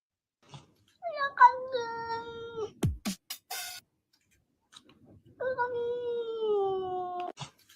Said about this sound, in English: He'll just take random fucking videos of cats meowing